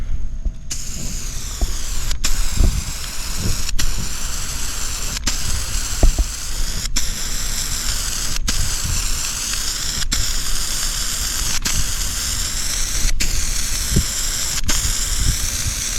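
Rust-Oleum spray paint hisses steadily from an aerosol can in a continuous close spray, with sharp ticks recurring about every second and a half.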